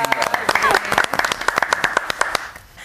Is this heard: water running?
no